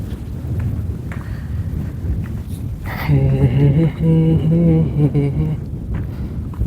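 In a desert at sunset, wind buffets the microphone with a steady low roar throughout, and a person speaks briefly partway through over the rumble.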